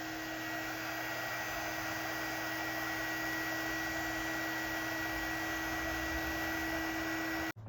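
Heat gun blowing hot air over a plastic light strip during a Lexus GX470 light kit installation, a steady loud whooshing hum that runs unbroken and then cuts off abruptly at the end.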